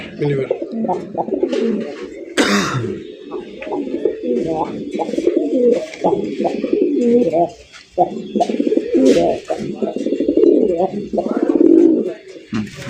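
Colored Rasgolla pigeons coo repeatedly at close range, soft throaty calls rolling on and off, with people talking intermittently over them.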